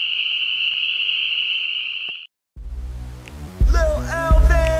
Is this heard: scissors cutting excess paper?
no